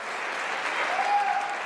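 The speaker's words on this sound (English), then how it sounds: "give yourself a nice round of applause for coming out to the Crown Plaza" Wedding guests applaud steadily in a Crowne Plaza banquet hall in Warwick, Rhode Island, a dense wash of clapping that swells slightly midway and holds at a moderate, even level.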